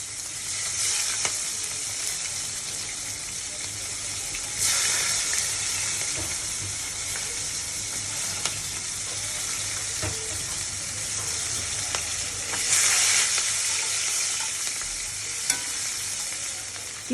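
Chopped onions sizzle in hot oil in a cooking pan, a close, steady frying hiss that runs unbroken, with a few brief stirring clicks and scrapes.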